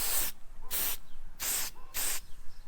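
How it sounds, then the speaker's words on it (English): Spray lubricant hissing onto a truck kingpin in four quick bursts, each about a quarter to half second long, close and loud with short pauses between. "I'm also going to spray it on the kingpin here."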